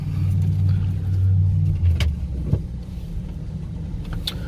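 A 2015 Ford Expedition EL Platinum rumbles as it starts to drive off, with a low engine hum that eases after a couple of seconds, plus a few faint clicks and knocks nearby.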